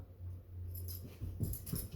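A Cavalier King Charles therapy dog whimpers in short soft whines over a low steady hum, close and fairly quiet.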